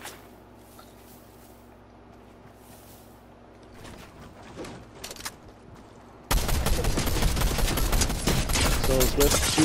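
Enemy gunfire in a video game, a loud burst of rapid automatic shots breaking in after quieter ambience and scattered rattling, continuing steadily to the end.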